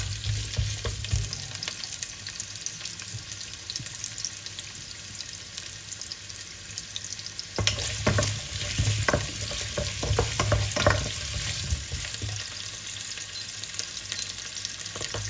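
Carrots and potatoes sizzle steadily in a hot pan for lamb caldereta, with a few louder crackling bursts and stirring scrapes in the middle, close up and with no talking.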